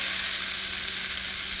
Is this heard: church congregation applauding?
no